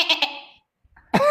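A person mimics a goat's bleat, a short voiced bleating call at the end after two quick breathy bursts and a pause, heard close and loud.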